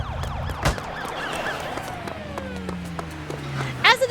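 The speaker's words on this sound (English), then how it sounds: "Reinforcements from the LCBI arrive with a flurry of sirens." Police vehicles in the video game Love and Deepspace converge to blockade Mystic City, their sirens overlapping in rising and falling wails over a rumbling background, with a single heavy thump early on and a burst of commotion at the end.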